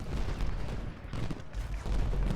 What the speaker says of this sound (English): we're going to take some heavy artillery fire, I believe